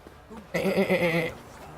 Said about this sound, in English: Sounds just like that goat.